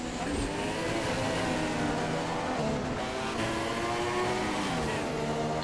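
Race cars from the Race of Champions driving flat out, a steady loud engine roar with shifting revs throughout, over a racing circuit with no breaks in the noise.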